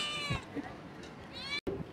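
A cat meowing close by, with two clear, drawn-out cries at the start and end and softer squeaks between, set against faint background noise.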